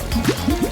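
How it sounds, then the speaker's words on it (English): Warm water rinses conditioner out of a fashion doll's hair, giving a few soft, close drips and gurgling splashes in quick succession. "And then rinse it off with warm water."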